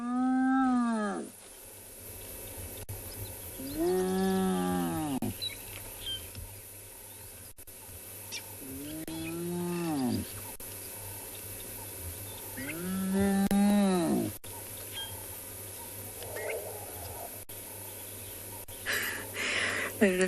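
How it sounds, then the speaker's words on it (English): Elephants scream and call on an African safari at sunrise, with four long harmonic wavering cries at irregular intervals, fairly distant, over quiet bush ambience. "I don't know if you heard the elephants in the background that also sounded like they were screaming"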